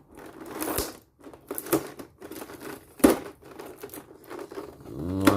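Several crackling, ripping bursts of packing tape being pulled away from a cardboard board game box, close up, with short pauses between pulls.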